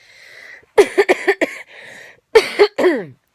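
A woman lying down gives a run of harsh, close coughs in two bursts, several quick hacks each, with a short breathy pause between them.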